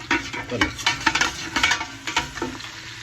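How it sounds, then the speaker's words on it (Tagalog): Beef and garlic fry in a pan for mechado, with a steady sizzle under repeated close scraping and stirring strokes of a utensil against the pan. "piprito natin dyan yung ating baka"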